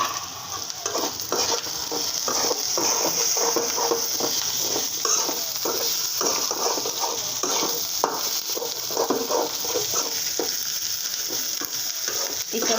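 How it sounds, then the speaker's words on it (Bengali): Onions and small ita fish frying in oil in a home kitchen, a continuous sizzle broken by repeated scraping strokes of a stirring spoon against the pan, close and fairly loud. "পেঁয়াজটা ভাজা ভাজা করে আমি সাথে ইটা মাছগুলো দিয়ে ভেজে নেব ভালো করে"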